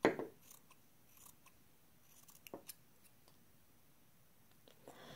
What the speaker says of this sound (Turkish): Evet, şimdi arka parçayı aynı hizadan kesiyorum.